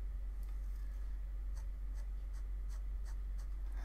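A Rotring Art Pen scratches hatching strokes onto paper in a steady run of short, close strokes over a low constant hum, with no voices.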